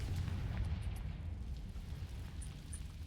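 A Confringo fire spell explodes in the Hogwarts Legacy video game, a heavy, booming blast with a deep rumbling roll that fills the scene and slowly fades, with a couple of faint high chimes ringing on top.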